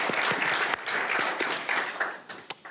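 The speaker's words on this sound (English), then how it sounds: "give them a nice round of applause to welcome them to the stage" A conference audience applauds as speakers are welcomed onto a stage at Davos, a brisk, dense round of clapping with a few sharper close claps standing out, tapering slightly toward the end.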